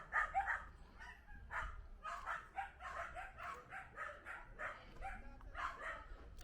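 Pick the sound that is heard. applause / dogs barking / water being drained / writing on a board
dogs barking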